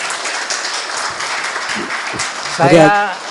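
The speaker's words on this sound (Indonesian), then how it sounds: "kita beri tepuk tangan dulu untuk Profesor Sutandio Wignus Subroto" Audience applause for a professor at a law lecture, a soft, diffuse wash of clapping heard from the room, ending as a voice rises clearly over it.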